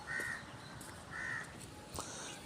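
Distant crows caw a few times, drawn-out calls spaced apart against a quiet outdoor hush along a canal bank, with a few softer chirps near the end.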